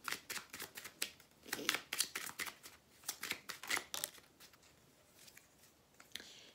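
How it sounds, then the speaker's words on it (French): Tarot cards being shuffled and drawn from a deck give off a quick run of close, crisp snaps and flicks in uneven bursts, quietly and with no voice. "je vais vous tirer une petite carte conseil"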